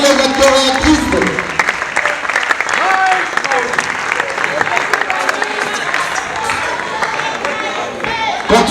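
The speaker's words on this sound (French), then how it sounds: "Continuons à applaudir." An audience at a short-film premiere gives loud, sustained applause, a dense wash of clapping from a crowd indoors that goes on steadily for several seconds.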